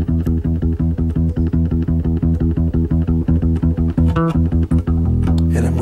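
Fingerstyle funk bass line in steady sixteenth notes, punchy and loud, with even repeated plucked notes and a few fills near the end, played alone without talk.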